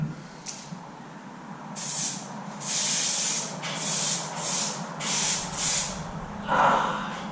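Spray gun laying a final primer coat on a Honda CBR250R MC19 motorcycle fuel tank: several loud, close hissing bursts of a second or so each, separated by short pauses, over a steady low room hum.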